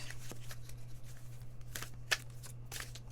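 Quiet, intermittent riffling of tarot cards being shuffled, soft papery bursts with a sharp snap near the middle, over a steady low hum.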